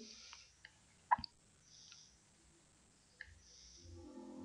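A computer mouse clicks during a software demonstration of a budget control program: a handful of sharp, separate clicks, one louder double click, spaced irregularly over a quiet background.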